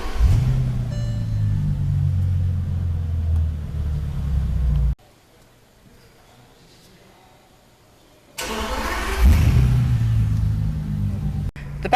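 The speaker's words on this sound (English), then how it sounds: "you push the brake and press the start button" A Bentley Continental GT Mulliner starts with a deep rumbling idle for several seconds, cuts out into near silence, then catches again with a loud throaty roar that settles back to a close, heavy idle.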